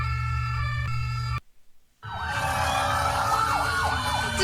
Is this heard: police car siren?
yes